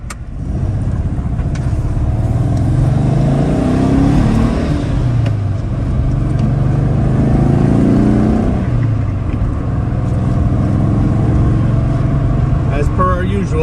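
A 1964 Porsche 356C sunroof coupe with a 12-volt conversion idles and revs after starting, its engine drone loud and steady with rising and falling pitch throughout.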